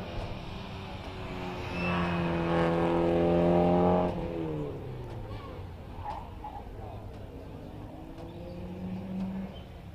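A race car climbs the hill at the Prescott hillclimb, its engine note rising and swelling loudly for a couple of seconds before fading into a steady background drone, with a faint second rise near the end.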